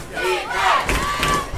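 A big crowd at an Annapolis high school football game, a state championship, yells and roars in a brief, rising burst of shouts and cheers, close and lively.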